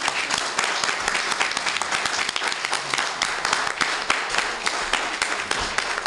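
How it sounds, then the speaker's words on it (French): An assembly of the Union Fraternelle des Ivoiriens applauds loudly at an election meeting, with a thick wall of clapping hands that continues evenly from start to finish. "on s'applaudit très fort"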